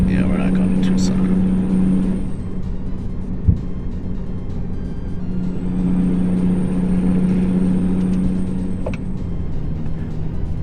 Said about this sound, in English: Yeah, Jake breaks a great noise.